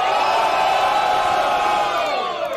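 A large crowd at a rap battle final cheering and shouting loudly and continuously, a sustained roar of many voices with whoops rising above it.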